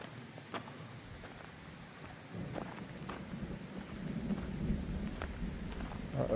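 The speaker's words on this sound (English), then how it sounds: "Uh-oh, thunder and lightning." Thunder rumbles and rain patters steadily outdoors along a road near the Appalachian Trail, with several sharp cracks and low rolling peals rising in loudness toward the end; no voices.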